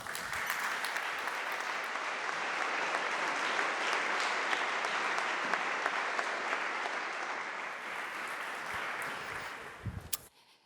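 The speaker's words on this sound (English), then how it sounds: "A big applause." A large conference audience applauds continuously for about ten seconds, welcoming German Foreign Minister Annalena Baerbock as keynote speaker at BCSC 2024, before the clapping tapers off abruptly.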